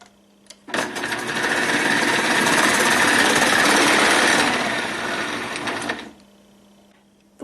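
A Kenwood food processor fitted with a julienne disc runs on potato, a loud close motor whine with steady grinding that starts abruptly, holds for about five seconds and cuts off, with no talking.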